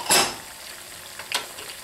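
Chopped onions and small pieces of pepper hit a hot pan for Potatoes O'Brien, giving a short sizzling burst and then a second fainter crackle, close and otherwise quiet.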